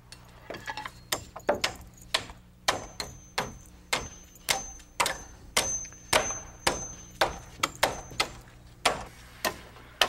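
Nails are hammered into a lapped wooden roof purlin joining rafter bays, a steady series of sharp, fairly close blows roughly every half second, with no talking.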